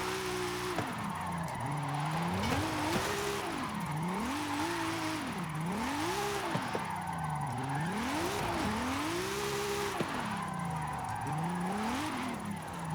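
A front wheel drive drift car in Forza Horizon 5 revs steadily up and down in repeated swells as the throttle rises and falls. A constant tire hiss runs underneath, with no talk.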